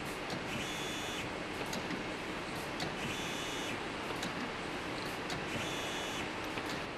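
An SN160 screen printing machine printing and overprinting woven ribbons, running with a continuous mechanical drone and a high whirring tone that repeats in regular cycles, close and steady with no speech.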